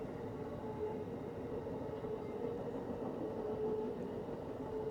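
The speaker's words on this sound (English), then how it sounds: "The train is coming. Can you hear it? Oh, it's an Amtrak train." An Amtrak passenger train passes nearby, a steady continuous rumble of rail cars rolling by that holds at a constant loudness throughout, with no talking over it.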